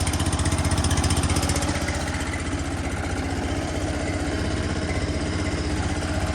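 A wood processor's engine idles with a steady, close, pulsing mechanical throb that stays even throughout, with no talk.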